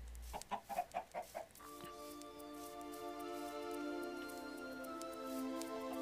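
Chickens in Minecraft give a rapid run of about seven close, loud clucks, then the game's steady sustained musical tones take over and hold to the end.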